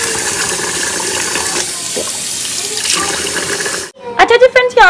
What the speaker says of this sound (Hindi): पहले एक दो बार खुले पानी से अच्छी तरह वॉश कर लूँ